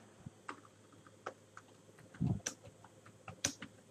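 Computer keyboard keys tapped while entering search keywords, a few sparse, light clicks spaced irregularly against a quiet background.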